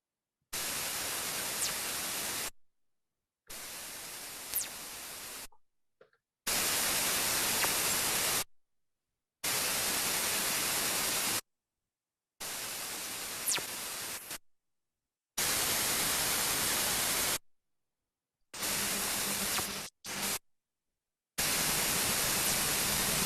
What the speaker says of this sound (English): Let's hear those fast radio bursts again.